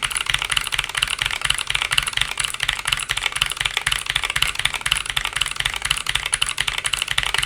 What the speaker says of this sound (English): Do you guys like clicky keyboards?